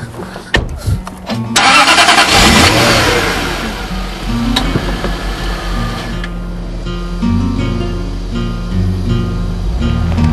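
A Jaguar XK8 convertible's engine cranks and fires, roars up in a loud rev, then settles into a steady idle, close by and without talk.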